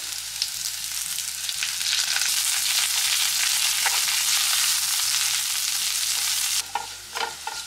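Shallots, dried red chillies and curry leaves frying in hot oil for a mussel stir-fry, a loud continuous close sizzle over a low steady hum, easing near the end into a few stirring scrapes.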